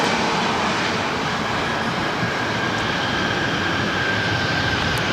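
An American Airlines A321neo jet arriving at LAX on a flight from Las Vegas, heard as a loud, continuous, broadband engine roar that holds steady throughout with no talking.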